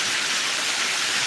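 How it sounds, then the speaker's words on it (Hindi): Heavy monsoon rain pours down steadily in Bariyawan, Ambedkar Nagar, with water flooding the ground and rushing through a drain, a dense, continuous hiss filling the clip without any voices. "बढ़िया बारिश भारी बारिश।"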